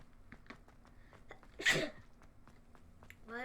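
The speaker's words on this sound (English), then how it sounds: "Why am I sneezing so much?" A sneeze bursts out once in the middle, loud and brief, over quiet background sounds from the Hogwarts Legacy video game, with a short voiced sound near the end.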